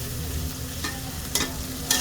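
Prawns frying in a pan hiss steadily while being stirred, with two or three sharp scraping strokes of the spoon standing out near and clear.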